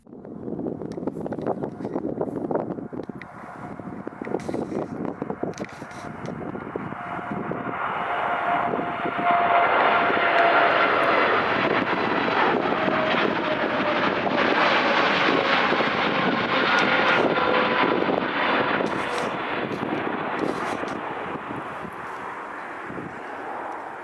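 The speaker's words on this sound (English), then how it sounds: "Eventually the 787 came and I was in luck. It took off on the runway I was spotting at." A Boeing 787 airliner takes off from a runway at Arlanda, its broad engine roar building and holding loud for most of the clip before easing slightly toward the end, with some wind buffeting.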